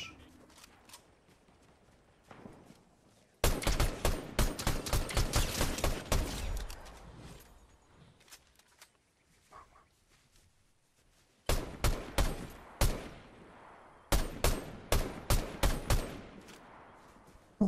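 Enemy rifle fire in Fortnite: rapid bursts of sharp gunshots in several volleys, one long string followed later by two shorter clusters, loud and close, with quieter gaps between.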